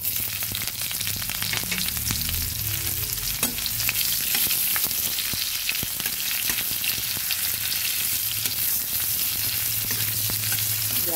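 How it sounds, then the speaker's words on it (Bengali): Chopped onions hit hot mustard oil in a pan for lau pata bharta, a loud, constant frying sizzle up close, with frequent sharp crackles and spatula scrapes over a low background hum. "তেলটা গরম হয়ে গেছে, আমি দিয়ে দিচ্ছি"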